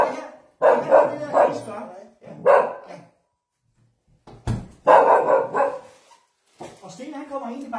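A dog barks in short, loud bursts with pauses between them, and people talk around the barking.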